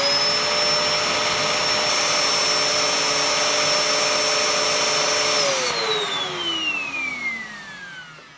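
A Dyson DC01 vacuum cleaner whines loud and steady with a high motor tone, then spins down and fades over the last few seconds.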